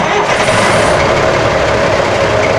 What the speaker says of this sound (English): There's no throttle necessary on a diesel engine. It's fuel injected, so just start it up.